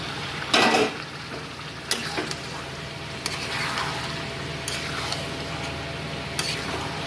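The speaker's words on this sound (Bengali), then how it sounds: "পেঁয়াজ থেকে তেল ছাড়া শুরু হয়েছে, এবার আমি ম্যারিনেট করা মাংসটা এর মধ্যে দিয়ে দেব।" Marinated mutton goes into onions frying in oil in a kadai. A soft, continuous sizzle sits beneath sharp metal clinks and scrapes of a spatula against the wok, coming at irregular moments close by. No one speaks.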